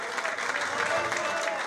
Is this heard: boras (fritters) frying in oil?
no